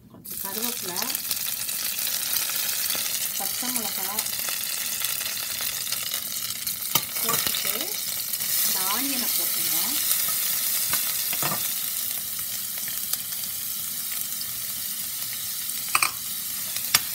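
Cloves, cardamom, cinnamon stick and a bay leaf sizzle in hot oil as a steady, dense hiss, with scattered clinks and scrapes of stirring running throughout and occasional faint background noises.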